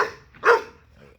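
A puppy gives a single short, sharp yip-like bark at close range, preceded by a brief softer whine, with little else around it.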